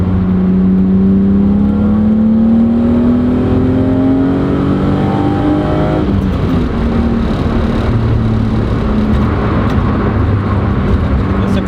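A BMW E36 M3 engine with an aftermarket AFE intake revs hard and climbs in pitch as it accelerates, then settles into a loud, steady roar at speed.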